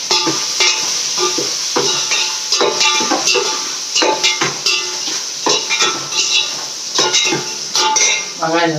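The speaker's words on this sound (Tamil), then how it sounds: "இப்போ பட்டை எல்லாம் போடலாம். வெங்காயம், பச்சை மிளகாய் போட்டுக்கலாம்." Sliced onions and green chillies, added after cinnamon, fry in a pan for prawn biryani, with steady sizzling under repeated metal stirring clinks and scrapes; loud and close throughout, no talking.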